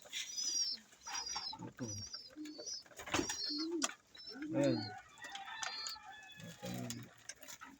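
Pigeons being hand-fed coo and flutter nearby in a cluster of soft, repeated calls, while someone speaks quietly among them.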